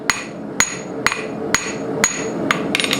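A hammer forges and tapers a steel pocket pry bar, striking in a steady, evenly spaced rhythm of sharp metallic rings about twice a second, then a quicker cluster of blows at the end.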